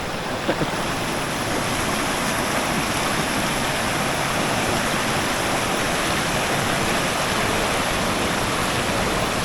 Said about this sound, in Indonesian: Soalnya di sini air terjunnya adanya cuma pas musim hujan.